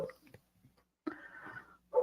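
A pet dog barks and whimpers in short, excitable bursts indoors, with a brief yelp early on, a longer whining stretch, and a sharp bark at the end, moderately close and not very loud.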